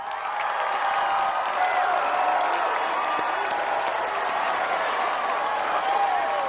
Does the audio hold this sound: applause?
yes